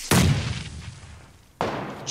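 A bomb blast in PUBG Lite, a sharp loud boom with a heavy low rumble that slowly decays, followed by a second sudden burst of noise near the end.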